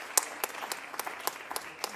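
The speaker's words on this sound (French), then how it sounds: "Je pense qu'on peut applaudir Lisa" An audience at a hospital federation's New Year greetings ceremony in France claps for a speaker, a short, light patter of applause with a few louder individual claps.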